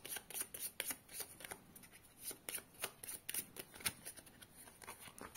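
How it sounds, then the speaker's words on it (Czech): Cards being shuffled, the deck for the board game Svět po nás: a quick series of soft riffling, rubbing strokes in steady bursts, close and quiet, with no talking. "tak vlastně mícháte balíček a dobíráte do 4 karet"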